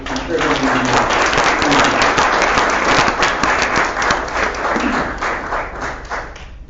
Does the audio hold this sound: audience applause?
yes